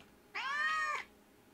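An animatronic cat in the horror game Case 2: Animatronics Survival gives a single clear, drawn-out meow, close and loud against a quiet background.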